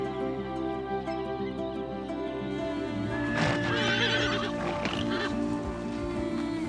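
A wild horse in the Australian outback whinnies loudly a couple of times over a steady hum, with some shuffling and faint clopping underneath.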